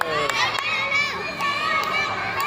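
Children shouting and cheering for friends running a race, a lively crowd of high voices calling out continuously, with an adult voice speaking among them.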